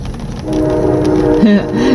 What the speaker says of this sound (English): whoops, that's a train.